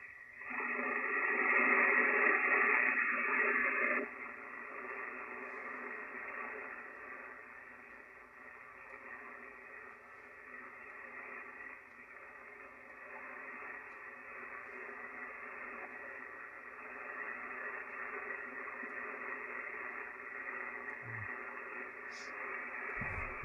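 A weak ham radio signal barely above the noise floor comes through as a steady hiss of static from the receiver, briefly louder at the start and then settling into faint, continuous noise.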